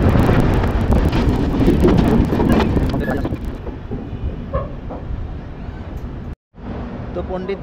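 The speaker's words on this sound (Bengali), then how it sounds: "সেই স্টেশনের পরে আমাদের ট্রেন এসে এখন থামলো কাশি স্টেশনে।" The 13005 Amritsar Mail pulls into Kashi station in Varanasi, its loud rumble and wheel clatter heard from on board fading to a quiet idle as the train comes to a stop.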